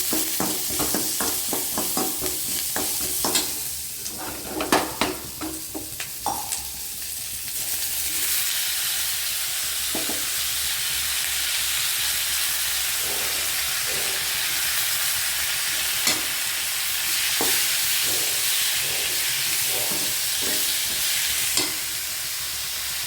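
Big onions sizzle steadily in a hot pan, with a burst of scraping stirring strokes at the start, then a continuous hiss broken by occasional clinks of the spoon.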